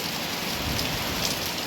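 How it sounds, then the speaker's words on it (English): Rain falls fairly hard during a major drought, a dense, even hiss of drops hitting surfaces that holds steady throughout the short stretch, with no voices. "It's actually raining."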